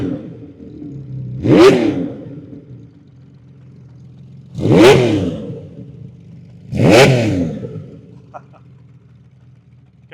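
A 1979 Honda CBX1000Z six-cylinder motorcycle with a 6-into-6 exhaust idles with a low rumble, then is revved in three sharp, loud blips spaced a few seconds apart, each quickly falling back to idle.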